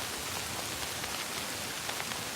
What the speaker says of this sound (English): Now it's actually raining a lot harder.